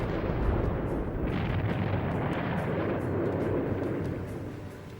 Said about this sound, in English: when it blew, the amount of energy that was released in the eruption was enough to blow the entire island